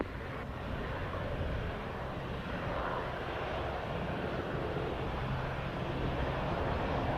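An airplane takes off at Montego Bay airport in Jamaica, heard as a distant, steady, broadband jet roar with wind rumble and no voices.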